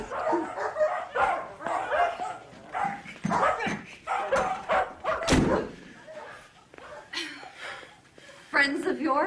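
Dogs bark and yip in bursts behind a door, the barking mixed with voices talking over it, thuds and whimpering scattered throughout.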